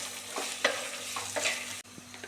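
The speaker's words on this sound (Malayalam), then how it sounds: "ഉള്ളി വഴണ്ട് വന്നിട്ടുണ്ട്." Chopped onions sauté in a pan for a Kerala-style fish curry, sizzling steadily while a spoon stirs and scrapes in several quick strokes, close and clear with no talking.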